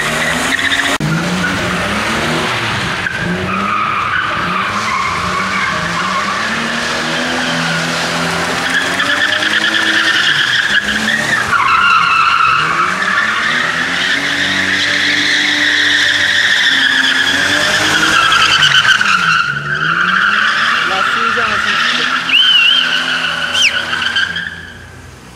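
A BMW 520 drifting, its tires skidding and squealing almost without break while the engine roars and revs, loud and close, with shifting pitch as the car slides and the sound cutting off at the end.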